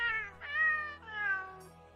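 A game cat gives an angry, drawn-out meow in three rising and falling yowls, close and clear with no talk.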